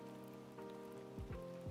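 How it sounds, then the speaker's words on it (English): Steady rain ambience pattering on a surface, a soft continuous wash of drops kept low in the background, with faint tonal hum and a couple of brief low thumps near the end. "I'm gonna lower slightly the rain noise."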